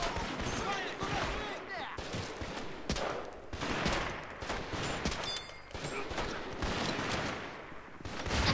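Gunfire in the GameCube game Medal of Honor: Rising Sun, dense bursts of rifle and machine-gun shots crackling continuously with louder close volleys, someone talking over the fighting.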